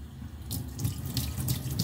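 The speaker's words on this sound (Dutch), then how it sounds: "Dus ik ga mijn haar uitspoelen." Tap water running into a sink while hair dye is rinsed out, a close, steady splashing rush that starts abruptly and continues with uneven spattering bursts.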